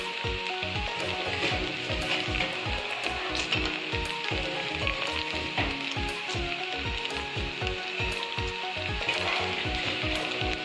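Spring onions sizzle loudly in a frying pan for desi-style chicken pasta, a dense continuous hiss close by with quick rhythmic scraping of a spatula throughout and no talking.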